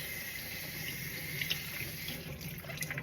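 Tap water runs steadily into a kitchen sink while something is rinsed at the bottom, a quiet, even splashing stream with no talking.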